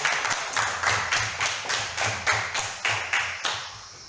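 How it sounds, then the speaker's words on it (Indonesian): A classroom of students claps in unison, sharp rhythmic bursts of group clapping repeating steadily about every half second, close and fairly loud, with no talking over it. "Tepuk tangan untuk kami."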